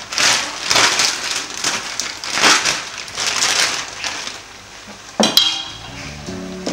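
Spinach soup with egusi and meat being stirred in a pot, giving repeated scraping, swishing sweeps that rise and fall in a steady rhythm, close and fairly loud, followed by a sharp clink of a utensil near the end.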